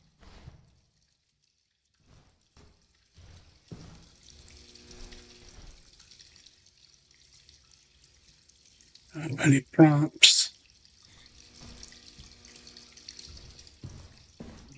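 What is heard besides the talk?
leaky water dripping in a haunted-building video game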